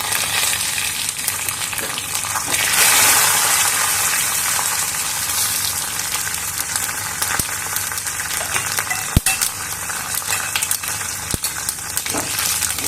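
Whole mustard seeds fry in hot oil in a pan while a Bengali chalkumro (ash gourd) dish is cooked, making a steady, close crackling sizzle that runs throughout with a few sharp pops.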